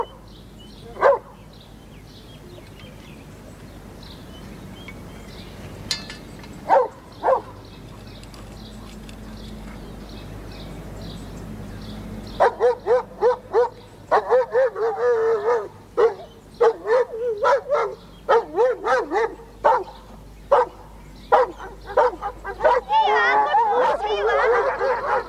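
Puppies and dogs bark and yip in rapid, repeated bursts that grow busier and louder partway through, with a quieter stretch of background noise and a few isolated barks beforehand.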